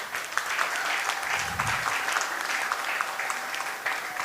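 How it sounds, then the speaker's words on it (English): Sustained applause from an audience at the grand opening of a Hindu temple and community centre in Oxford, an even wash of many hands clapping at steady volume. "So big round of applause for him."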